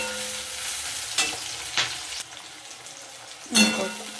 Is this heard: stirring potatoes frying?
yes